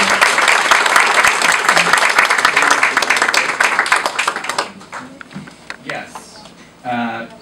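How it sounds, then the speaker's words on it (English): A crowd at a Pride awards ceremony at Queens Borough Hall breaks into a loud, sustained round of applause with dense clapping that fades out after a few seconds, followed by a voice speaking. "let's give a big round of applause to all of those we've lost"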